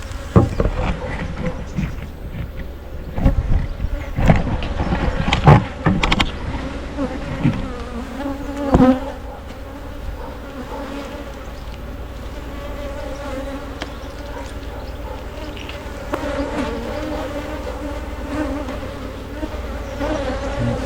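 Honey bees swarm over a frame pulled from a honey-producing colony's hive, making a dense, steady buzz that fills the whole stretch, close by and fairly loud, with a few knocks and handling bumps in the first half.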